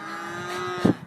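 Cows in an open field give a loud, close moo that swells near the end of a short stretch, with no talking over it.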